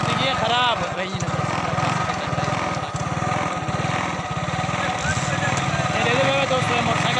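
A faulty motorcycle engine runs steadily throughout, a loud buzzing, rapidly pulsing drone close by, with voices talking over it.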